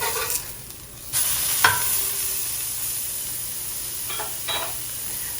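A burger patty, just flipped, sizzles steadily in a hot pan. The hiss is continuous and moderately loud, with a few clinks and scrapes of a utensil near the start and some light clatter later, and no talk.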